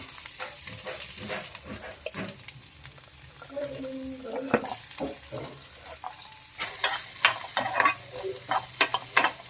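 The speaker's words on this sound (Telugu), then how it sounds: "తీసి పక్కన పెట్టుకుని ఇదే బాణలిలో కొబ్బరి ముక్కలు వేయించుకుందాం" Coconut pieces frying in a wok-style pan, a soft, even sizzle broken by scraping stirs and light clinks, growing busier and more clattery toward the end.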